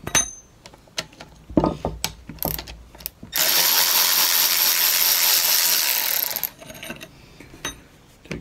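Tool backing out the long through-bolts of a garden tractor generator, starting with scattered metallic clicks and clanks, then a steady loud buzzing run of about three seconds, then more clicking.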